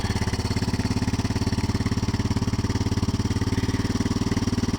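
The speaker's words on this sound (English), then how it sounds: "So I'll let it run at half choke for a minute until the cylinder gets a little warm." A Yamaha Big Bear 350 ATV engine idles steadily on half choke in cool weather, about 35 to 40 degrees, with a fast, even, close putter that stays constant throughout.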